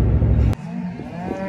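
Cattle on a family farm give one deep, loud, close moo that cuts off abruptly, followed by quieter lowing and ambient farm noise.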